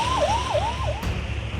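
Warning siren sounded by authorities amid heavy rainfall and flooding, a wailing tone rising and falling three times in quick succession over a steady low rumble, then cutting off.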